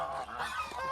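Geese kept by herders give a few quick nasal honks, moderately close but fairly faint, over a soft outdoor background.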